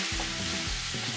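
Beef curry sizzles in a pot while it is stirred, a brief close and steady frying hiss broken by soft scraping strokes.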